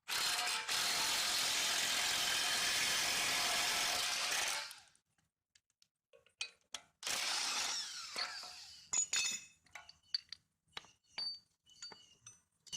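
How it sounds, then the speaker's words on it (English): Ball joint work on a car: a loud, continuous whirring tool burst lasts several seconds, then falls silent before sparse metallic clicks and ratcheting taps as a torque wrench tightens the joint. "Okay, now we'll torque it."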